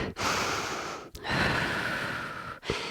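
A deep breath taken during a low-lunge yoga stretch, long airy inhales and exhales close to the microphone, broken by two short sharp pauses.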